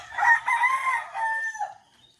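A rooster crows once, a loud, rising-then-held cock-a-doodle-doo lasting under two seconds that fades out at the end, close by and alone with no talking.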